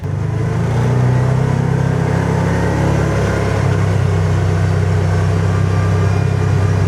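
A UTV engine runs loud and steady as the vehicle pulls away, a constant close, deep motor drone with faint rattles throughout and no talking.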